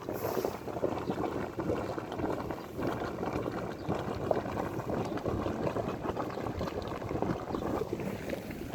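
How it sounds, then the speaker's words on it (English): Hot spring water bubbling and boiling beside a high-altitude lake, a steady dense seething and gurgling that carries on without pause, fairly close and moderately loud. "literally it's boiling."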